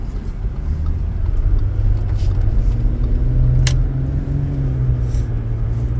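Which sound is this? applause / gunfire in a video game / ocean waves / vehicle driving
vehicle driving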